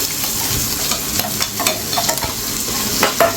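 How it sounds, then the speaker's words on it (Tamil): Onions and green chilies sauté in a hot pan, giving a steady frying hiss broken by scattered stirring scrapes and clicks, close and fairly loud with no talking. "இது கூடவே பச்சை மிளகாய் அதையும் சேர்த்துட்டு வதக்கிக்கோங்க"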